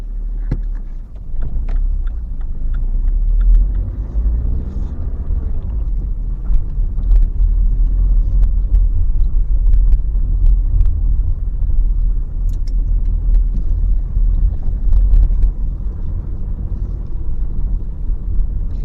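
A car pulling away during a mock driving test, a steady low engine rumble heard from inside the cabin, continuous and fairly loud with faint knocks and clicks, no one speaking.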